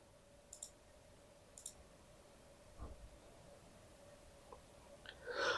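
Computer mouse clicks while an online form is filled in, a few sharp, quiet clicks spaced out over a low, faint hum, with a couple of softer taps near the end.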